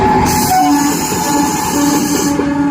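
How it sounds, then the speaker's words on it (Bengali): A train rumbles past steadily close by at the Palashi railway level crossing, with a continuous mechanical roar and a high whine over the low rattle, no voices. "এই যে ট্রেন যাচ্ছে"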